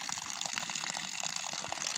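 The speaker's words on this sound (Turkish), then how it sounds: "gördüğünüz gibi doğal bir şelalemiz var artık. Bayağıdır akıyor." Water gushes steadily from an accidentally punctured spot in a barn on a snowy day, making a continuous, loud, close splashing rush.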